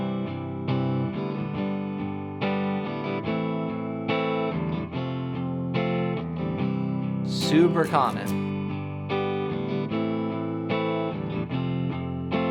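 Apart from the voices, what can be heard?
guitar playing a 1-5-6-4 chord progression in C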